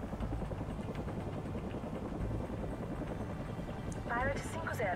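A helicopter flies in the video game Call of Duty: Ghosts, giving a steady, dense rotor drone throughout, with a voice talking briefly near the end.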